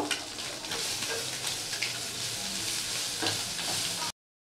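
Cumin powder, turmeric and salt sizzle steadily in a hot pan, a dense continuous frying hiss with faint scraping stirs, close and alone for about four seconds before cutting off.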